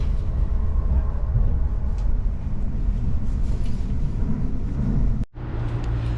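Steady low rumble of a train idling at a platform at Düsseldorf-Reisholz station, with a brief dip near the end as the noise cuts out and resumes.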